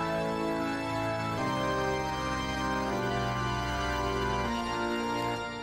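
Organ voiced with a distorted, quasi-electric guitar tone, holding thick, buzzy sustained chords that shift a few times, steady and close with no talking.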